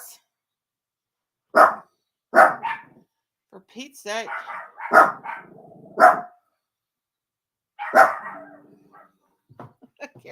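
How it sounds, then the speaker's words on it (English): Dogs bark in sharp, loud bursts spaced a second or two apart, with some yips and whimpers between, close by, and a voice speaks briefly among them. "Dog alarm, dog alarm."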